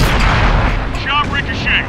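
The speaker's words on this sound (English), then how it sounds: "Shot ricochet." A tank round ricocheting off armor in a tank combat game: a heavy boom with metallic ringing whine trailing after, loud and close, with a brief voice line over it.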